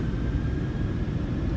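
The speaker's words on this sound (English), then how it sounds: "Takeoff. Stabilized, setting thrust." PMDG 737 jet engines at takeoff thrust in Microsoft Flight Simulator 2020, heard as a steady, loud, broadband engine roar with a faint whine layered on top, continuous and unbroken.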